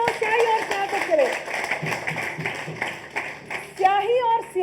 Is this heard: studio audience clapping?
yes